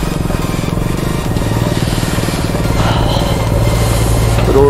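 A KTM RC 200 motorcycle rides on Mughal Road with a loose chain, its engine a loud, close, rapidly pulsing drone that gradually swells as the rider accelerates.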